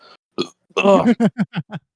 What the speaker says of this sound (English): Hold on, I feel a burp coming on.